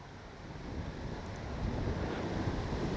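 Steady wind roars and buffets across the microphone outdoors at an RC plane flight, a continuous broadband rush that grows slightly stronger partway through.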